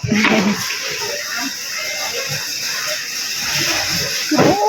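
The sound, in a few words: water washing vegetables at a market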